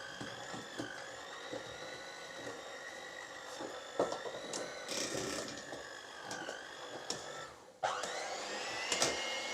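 A strained electric stand mixer whines as it works heavy dough for Karelian pyörö, a loud continuous motor drone with shifting pitch and bumps as the load changes.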